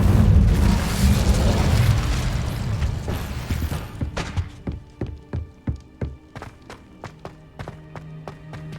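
Incendio fire spell cast in Hogwarts Legacy: a loud whooshing burst of flame that fades over a few seconds, followed by a series of quick crackling pops and taps.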